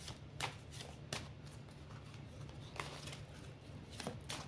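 A deck of cards being shuffled for a seven-card reading, soft repeated riffles and taps close by over a quiet room, with no voices.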